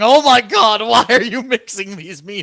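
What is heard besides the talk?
No distinct noise like a dog, phone or traffic.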